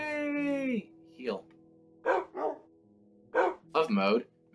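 Tamed dogs in the video game Minecraft give several short, close barks and yips in quick bursts. They sound between a person's speech.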